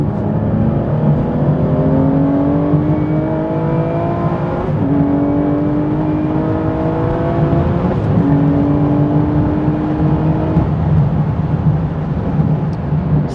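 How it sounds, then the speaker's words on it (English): A car with a 7-speed manual gearbox accelerating at full throttle and downshifting from fifth to second, its engine note rising steadily in repeated climbs, loud and close throughout, with no voices. "I'm going to give it full throttle on the accelerator pedal, and it'll probably do something like a 5-2 shift"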